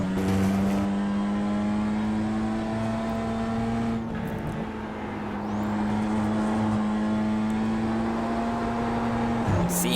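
BMW M2 race car engine during an M2 Cup race, heard from onboard as a loud, steady high drone, dipping briefly near the middle under a lift then holding flat out again.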